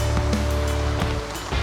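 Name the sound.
heavy rain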